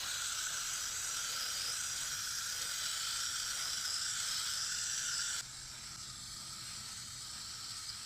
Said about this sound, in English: Now I'm just going to rinse these off really quick.